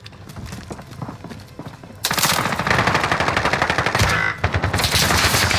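Machine gun fire in Call of Duty Warzone, rapid loud bursts of repeated shots that start abruptly and continue with a short pause, preceded by quieter rhythmic footsteps and game sounds.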